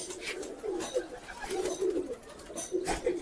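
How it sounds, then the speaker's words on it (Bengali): Kalchira pigeons, a rare domestic breed, coo softly and repeatedly in a low murmur, several overlapping calls rising and falling over a faint background hiss. "কালচিরা তো রেয়ার পায়রা একটা"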